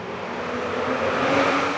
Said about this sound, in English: Behind me, there is a bend where cars are coming.